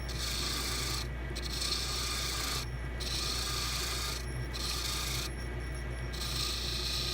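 A lathe gouge cutting a spinning wooden duck call barrel, giving a steady, close scraping rasp over a constant motor hum, with the cutting noise breaking off briefly at several regular points.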